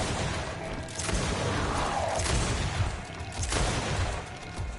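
Explosive blasts and crackling combat noise in the video game Greedfall, a stasis bomb going off amid battle, with loud broadband bursts near 2 and 3.5 seconds over a continuous dense din.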